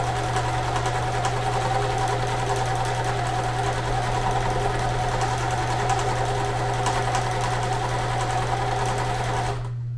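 A sewing machine stitches fabric in a steady, continuous mechanical whir with a rapid needle rhythm, loud and close, running without pause for ten seconds before stopping abruptly at the end.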